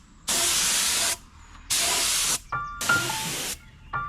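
Spray paint hisses onto Rolls Royce door hinges in a body shop, coming in three loud, steady bursts of about a second each with short gaps between them, and no one speaks.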